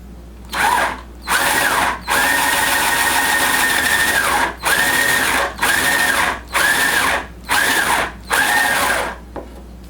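A power drill drives a screw down into an arcade cabinet control panel in short repeated bursts, about seven loud whirring pulls of varying length separated by brief pauses, close up with no talking.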